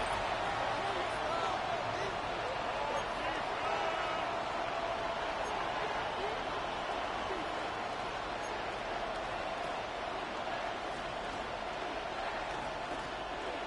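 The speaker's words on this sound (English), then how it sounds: "The crowd making their presence felt." Stadium crowd in the Madden 26 football game, heard near the end of the third quarter. The crowd roars as a dense, steady wash from start to finish, with no clear breaks and only a faint murmur of commentary underneath.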